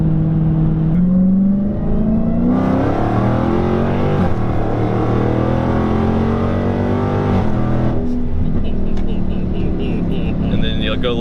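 2016 Dodge Challenger Hellcat pulling away and cruising, with a steady loud engine drone and rising, falling revs, while people talk throughout inside the car.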